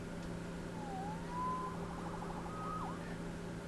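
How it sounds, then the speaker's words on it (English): A police siren wails in the Spider-Man Remastered video game, two rising and falling sweeps sounding moderately distant over a steady low ambient hum. "Saved by the siren."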